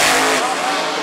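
NASCAR supercar blasting past on a hot lap at Macon Speedway, a loud close engine roar that fades slightly as it passes.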